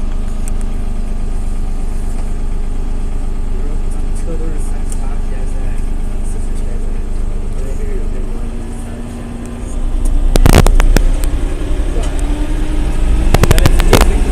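A car engine idles and pulls steadily on an icy road, starting up a hill with tyres let down for grip; a low continuous hum with a brief rise in effort and some sharp clatter near the end.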